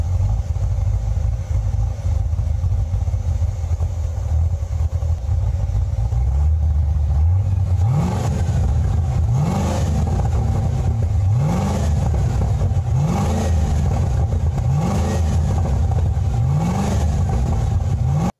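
A car engine with a relocated TFI ignition module idles steadily, then revs repeatedly in rhythmic bursts, each rise and fall clearly audible close to the microphone, recorded from behind the car.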